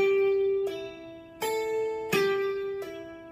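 A guitar plays a slow pentatonic blues lick, single notes ringing one after another in a relaxed, unhurried rhythm, close and clear with no talking.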